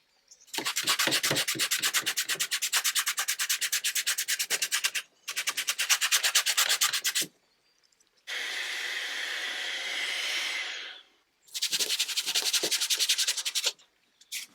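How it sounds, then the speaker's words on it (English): Light hand sanding across the surface of new leather before gluing, during a chair restoration: long bursts of steady, rhythmic rubbing strokes, close and fairly loud, broken by short pauses and one smoother continuous scrub. "I'm just giving it light sanding so the glue can penetrate properly"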